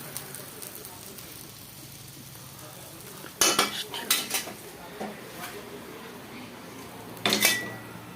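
Metal spoon clanks and scrapes against a cooking pot as spinach curry is served out, several sharp bursts of clatter after a quiet stretch, close and fairly loud.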